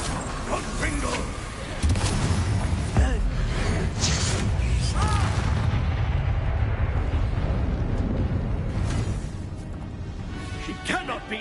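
A Confringo fire-blast spell cast in the Harry Potter video game Hogwarts Legacy, heard as a sustained rumbling, crackling burst with creaking, mechanical undertones over roughly nine seconds, tapering at the end, with voices speaking over parts of it.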